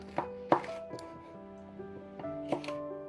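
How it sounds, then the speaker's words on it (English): Knife slicing two jalapeños on a cutting board, a few sharp chopping knocks spaced irregularly over a steady background hum, close and fairly clear. "here I have 2 jalapeños, and then I'm just going to slice them up"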